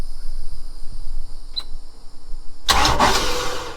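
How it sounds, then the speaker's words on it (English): A boat motor is briefly bumped over by its starter during belt installation, a loud burst of cranking that lasts about a second after a quieter stretch of background noise. "All right, we gotta get this belt on, so we're gonna roll the motor over."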